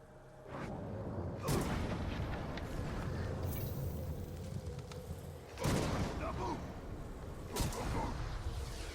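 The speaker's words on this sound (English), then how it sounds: "Just, you know, shoot explosives near the ground." Explosions in the Middle-earth: Shadow of War video game, a few heavy booming blasts spaced several seconds apart over a steady rumbling battle bed, with game sounds and voices mixed underneath.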